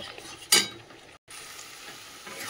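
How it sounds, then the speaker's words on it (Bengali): Spiced potatoes with ground cumin and red chili powder stir-fried in a pan: a brief, sharp scrape of the spoon near the start, then a steady low sizzle with a short gap. "চলো মশলাটা কষিয়ে নিই ভালো করে"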